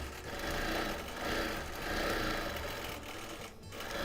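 A household sewing machine runs continuously at a fairly quiet, even level, its stitching hum carrying a slight mechanical rattle that wants a drop of oil.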